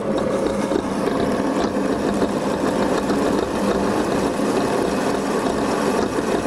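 A lathe cuts a groove gradually to 7 mm depth in a homemade welder part, producing a steady, loud mechanical droning hum with rough cutting texture that holds unchanged throughout.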